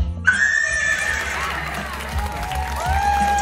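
A horse whinnies loudly at an indoor theatre event, a long wavering neigh that carries on for several seconds over crowd noise and cheering.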